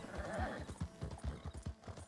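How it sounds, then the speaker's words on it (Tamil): A horse in the video game Red Dead Redemption 2 moves at a fast pace. Rapid, rhythmic hoofbeats sound close and clear, with a brief whinny at the start. "என்னோட குதிரை"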